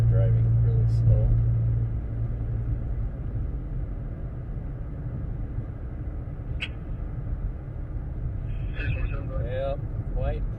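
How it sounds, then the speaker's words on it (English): Cars move slowly along a highway, giving a steady low road rumble and tyre noise throughout, with a faint higher chirp partway through and light voice sounds near the start and end. "These cars are driving really slow."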